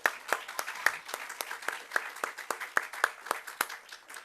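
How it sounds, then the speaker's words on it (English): Scattered, modest clapping from a small audience at an opening celebration for Otto Veterans Square, individual claps distinct and unevenly spaced over a few seconds, fairly quiet. "let's give a round of applause to that"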